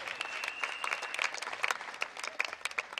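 Audience applause at an outdoor children's hike gathering: dense, steady clapping from a crowd, fairly close, sustained through the whole stretch with no talk over it.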